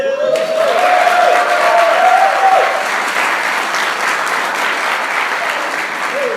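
A church congregation bursts into loud, sustained applause during an evening service, continuous dense clapping over about six seconds with a faint tonal voice or organ note early on.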